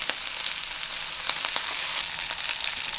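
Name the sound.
rack of lamb sizzling in butter with thyme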